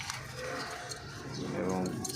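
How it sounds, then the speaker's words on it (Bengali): Young wild Jalali pigeons kept for sale coo softly in the background, a low continuous murmur with a few rising calls, heard beneath someone speaking. "একদমই ফ্রেশ কবুতর"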